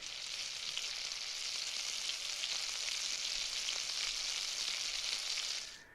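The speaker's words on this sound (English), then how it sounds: "I thought of frying bacon" Steady, bright sizzling like bacon frying in a hot pan, continuous crackle for several seconds before it cuts off abruptly.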